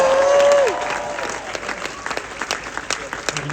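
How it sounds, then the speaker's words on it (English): Audience applause for a film's director and two lead actors at an anniversary screening, a full crowd clapping steadily after a loud opening tone fades, dense and close, with scattered louder claps. "Let's give them a big round of applause."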